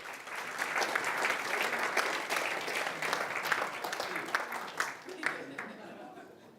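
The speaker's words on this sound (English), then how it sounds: "Give him a round of applause" An audience at a motivational talk breaks into sustained applause, a dense, even wash of clapping that holds steady and then slowly fades near the end.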